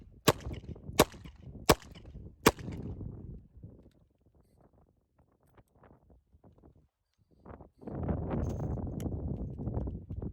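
A revolver cylinder is closed and locked during a one-handed reload, giving four crisp metallic clicks in quick succession, then quiet handling and a burst of rustling near the end.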